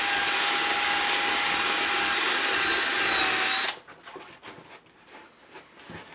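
A power drill whines loudly and steadily for several seconds while boring through foam in a camera case, then cuts off abruptly, leaving quieter scattered handling noises.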